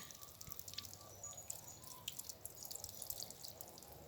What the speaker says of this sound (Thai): นี่ให้น้ำไหลผ่านแบบนี้เลยค่ะ ล้างเขาให้สะอาดที่สุดนะคะ